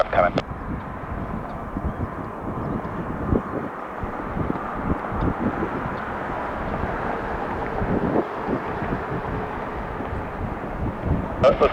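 A fixed-wing aircraft approaching at Detroit Metro Airport, heard as a steady broad roar that holds across the clip, with wind buffeting the microphone and a voice faintly present at times.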